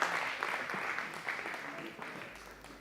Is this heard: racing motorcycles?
no